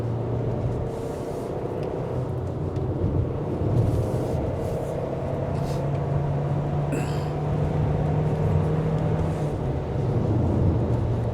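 A Kia Sportage with four-wheel drive runs along a wet mountain road at Genting, giving a steady cabin hum of engine and tire hiss that lasts throughout with no one speaking.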